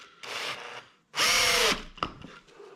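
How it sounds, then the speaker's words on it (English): A power drill drives a screw into a countersunk hole in wood: a short whir, then a loud, sustained whining burst with a pitch sweep, followed by a few scattered clicks and taps. "So now you want to drive the screw."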